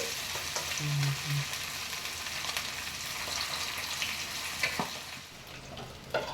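Thinly cut fish pieces fry in hot oil with a continuous close sizzle and crackle, broken by a few sharp clinks and stirring scrapes in the pan, with no voices.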